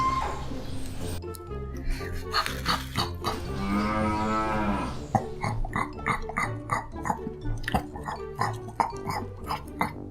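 A cow moos in a long drawn-out call on a farm, with other farm animal noises and clinks around it; music plays throughout.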